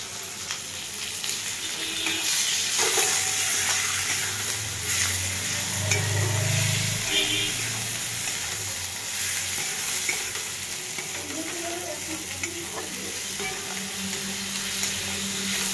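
Tomatoes frying with spices in a pan, a soft steady sizzle with occasional stirring scrapes and a brief louder burst of crackling as they are added, heard alone without talk.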